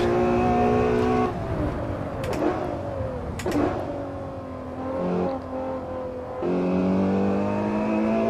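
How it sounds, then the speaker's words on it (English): A V12 supercar in the Assetto Corsa racing game screams around a test track, its high harmonic whine rising and falling through gear shifts and lifts, loud and close with no talking. "The V12 engine produces some spectacular figures, and this thing is just fast as a bullet"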